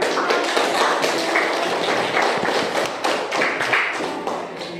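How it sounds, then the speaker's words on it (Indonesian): Children in a classroom clap together for a student group, a close, uneven patter of hand claps and taps that swells and dips over several seconds with no talk. "Kita beri tepuk tangan anak-anak."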